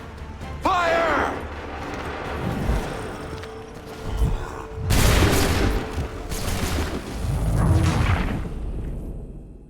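Musket volleys crack out in the Assassin's Creed 3 video game, with several loud bursts of massed gunfire rolling across the clip and shouted orders mixed in between the shots.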